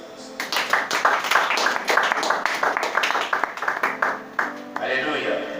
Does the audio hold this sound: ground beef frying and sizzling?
no